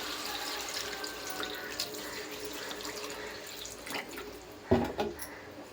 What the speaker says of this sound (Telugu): తగినన్ని వాటర్ అయితే పోసుకుందాం.